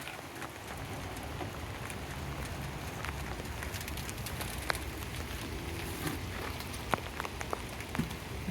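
Soft, steady rain patters continuously beside beehives, with scattered sharper drops ticking on a surface nearby.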